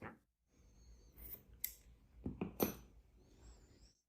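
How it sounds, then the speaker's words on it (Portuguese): Scissors snip through crochet yarn in a few quiet, close, crisp cuts with soft handling noise around them and no talking. "E aqui vamos cortar o fio."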